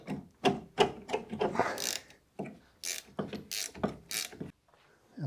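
Ratcheting wrench loosening the lower ball joint nut on a Renault 5 GT Turbo front suspension, a run of close, clicking ratchet strokes in uneven bursts with short pauses between them.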